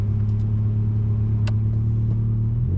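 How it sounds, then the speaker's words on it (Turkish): A car engine running close by, a steady low rumbling hum with a brief small click partway through and a slight shift in tone at the end. "Araba başlıyor."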